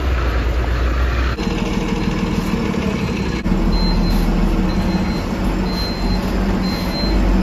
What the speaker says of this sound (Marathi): टाटा चेसिसवर बनलेली ही एस टी महामंडळाची स्वनिर्मित स्लीपर बस